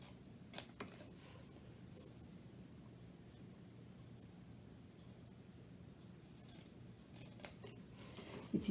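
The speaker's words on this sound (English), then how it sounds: "I just find it just as easy to just go ahead and cut in with my scissors" Scissors cut through paper for a stamped paper craft box: a faint, steady crisp snipping close by at low volume, with a few sharper clicks near the start and end and no talking.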